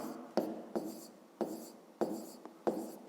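Pen strokes scratch across paper while numbers for a fifth-grade math exercise are written down by hand, a series of five quiet, evenly spaced scribbling bursts, each starting with a soft tap, alone without speech.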